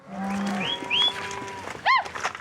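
Cattle low during ranch cattle sorting, with a long, deep moo near the start followed by shorter calls and whistle-like cries over a steady outdoor background.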